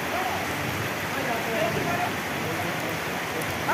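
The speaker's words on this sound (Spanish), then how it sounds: "ya están con nosotros aquí en medio de esta lluvia" Heavy rain falling steadily in a dense, continuous hiss, with a faint voice briefly audible beneath it.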